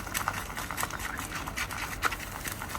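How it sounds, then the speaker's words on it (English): Sticky fermented natto beans whipped hard with long cooking chopsticks in a bowl, a fast, steady run of wet clicking and tacky squelching taps, close and fairly quiet, with no voices. "she is trying to stir very hard, counterclockwise"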